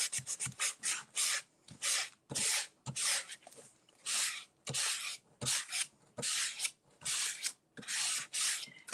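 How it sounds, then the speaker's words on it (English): Edges of a large wooden monogram are sanded with a nail file or emery board, giving a series of close, dry rasping strokes in short bursts with brief pauses between them, alone without talk. "you might need a nail file, like an emery board or something"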